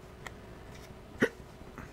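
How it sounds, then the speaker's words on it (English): A single sharp hiccup from a man playing a game on a ColecoVision Flashback console, brief and close, with a couple of fainter small body noises before it in a quiet room. "Excuse me, I got hiccups."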